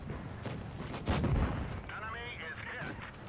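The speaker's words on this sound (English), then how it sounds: "Nice shot into the back." A single heavy tank cannon shot booms up close in World of Tanks Blitz, over a constant rumbling engine bed, and a voice speaks afterward.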